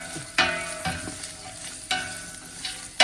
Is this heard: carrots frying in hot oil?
yes